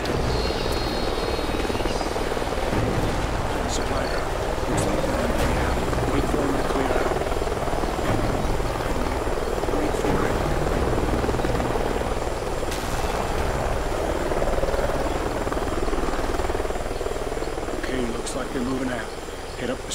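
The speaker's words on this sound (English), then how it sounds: "Sounds like a chopper's up ahead of us." Helicopter in the Call of Duty video game, flying nearby in a canyon setting, a steady loud rotor drone throughout with insect chirps and ambient wilderness noise underneath.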